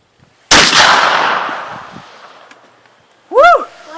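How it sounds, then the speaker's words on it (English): A single close, loud gunshot from a handgun or rifle fired at an outdoor range, with a sharp crack and a long fading echo, followed by an excited shout from a person nearby. "Alright, pull the trigger."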